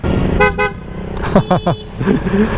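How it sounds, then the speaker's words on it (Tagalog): Two short loud blasts from a Honda ADV 160 motorcycle horn, then a quick series of honks, each with bright stacked harmonics, over steady engine noise. "parinig ko sa inyo yung yung loud horn"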